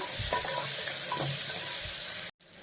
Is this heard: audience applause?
no